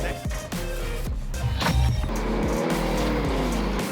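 A car driving in the Warzone video game, with engine roar, tire squeal and skidding as it moves and turns, loud and up close throughout.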